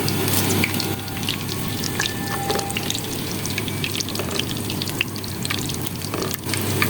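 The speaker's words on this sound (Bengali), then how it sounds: "পাঁচফোড়নের গন্ধ বের হয়েছে, এখন আমি কয়েকটা শুকনো মরিচ দিয়ে দিচ্ছি।" Dried red chillies fry with five-spice seeds in hot oil for a garlic pickle, a loud, dense, continuous sizzle close by with scattered crackles and no talking.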